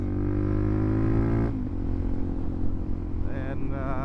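Supermoto motorcycle engine droning steadily up close, then dropping in pitch and rising again as the rider revs through wheelie attempts, with a rough, loud exhaust note throughout.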